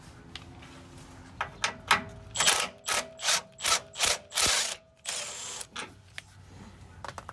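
A ratchet loosens the 18 mm sway bar fasteners on a 2014 Ram 1500, giving a series of loud, close, rhythmic clicking bursts in the middle, with quieter scattered clicks before and after and no talk.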